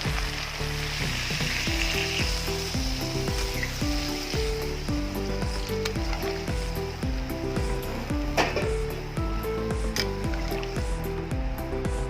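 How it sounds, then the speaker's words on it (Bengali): Water hits mixed vegetables frying in a pan, giving a loud, continuous sizzle that holds steady throughout, with music playing underneath. "এবার জল দিয়ে দেবো।"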